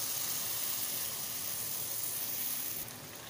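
Dough balls for rasbhari frying in hot oil, a steady bright sizzle and hiss that stays constant and close, dropping slightly in level near the end.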